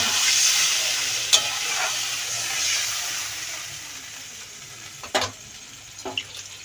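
Tarka dal boils in a cooking pot just after water is poured in, giving a steady close hiss and bubbling broken by a few sharp clinks.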